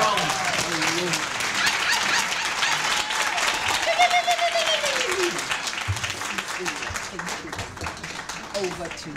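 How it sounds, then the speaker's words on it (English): A warm round of applause from the audience at an award ceremony and memorial lecture as a woman comes to the podium, with full clapping, light laughter and voices mixed in, then a brief spoken thanks. "Let's give her a warm round of applause because we are going to hear from the woman."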